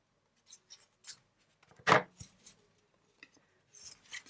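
Scissors snipping through paper card stock for a handmade card, a few soft scattered snips and one louder, longer cut in a quiet room.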